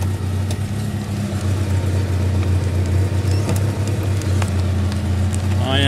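A turbocharged Holden Gemini car engine idling, a steady, loud low rumble held evenly throughout at close range, with a little background noise on top.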